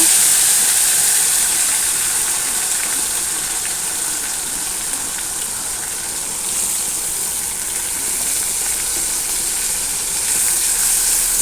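A steady, loud sizzle of ginger, garlic and onion paste frying in hot oil hisses continuously, with no talking over it.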